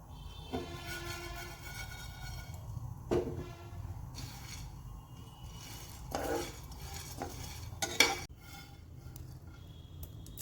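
Sunflower seeds dry-roasting in a pan are stirred with a spoon, giving quiet scraping and occasional sharper clinks of utensil on metal, spaced irregularly across the clip with no voice present.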